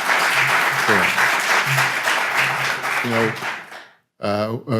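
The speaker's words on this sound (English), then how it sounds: "we should give a round of applause to Joan for leading this particular conversation" An audience gives a full round of applause at a speaker-series event on demographic change. Voices speak briefly during the clapping, which breaks off into talk near the end.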